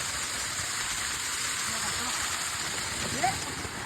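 Barki waterfall pouring in a steady, broad rushing roar that holds unchanged throughout, with a faint voice briefly audible beneath the noise of the water.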